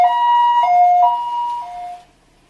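An ambulance siren blares nearby at a rescue of a truck stuck on a narrow path. It alternates between two tones in a loud wail for about two seconds, then cuts off into near silence.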